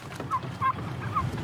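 Several turkeys on a farm gobble in short bursts, three distinct calls spaced about a third of a second apart over a low background rumble.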